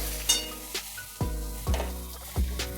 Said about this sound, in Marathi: त्यानंतर आपण हे बटाटे टाकूया.